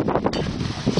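Wind gusting outdoors across a microphone, a steady broadband rush that swells and eases through the whole moment, with no voices.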